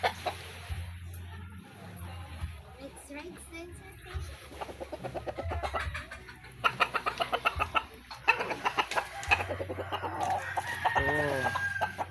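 Brown laying hen clucking in a backyard, with rooster crowing and other fowl calls nearby; repeated close clucks and squawks in irregular bursts, with a person speaking intermittently between them.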